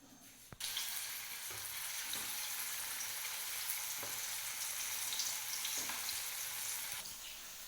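Tamarind water for a Kerala fish curry bubbles and hisses steadily in a pot, a constant bright simmering wash with a few soft knocks, no talk.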